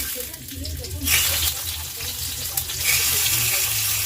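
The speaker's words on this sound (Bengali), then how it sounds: "এবার তেল গরম হয়েছে মোটামুটি এবার দিয়ে দেবো কুমড়া" Pumpkin drops into hot oil in a pan, bursting into a loud, bright sizzle that swells and then holds as a steady close frying hiss, with a voice talking faintly underneath.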